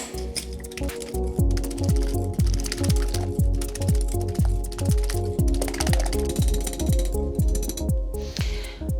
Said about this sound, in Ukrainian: І взбиваємо.